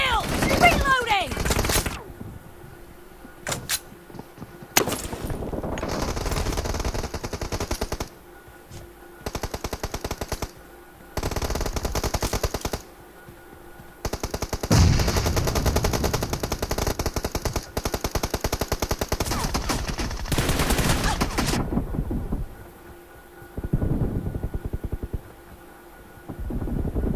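Rapid automatic gunfire from the BGIS Battlegrounds Mobile India video game finals crackles almost continuously in dense, overlapping bursts, with steady game ambience filling the brief lulls.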